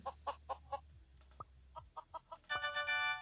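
Chicken clucks in the Mini Camp School simulator video game, sounding as a run of short rhythmic clucks followed by a louder, longer squawk near the end.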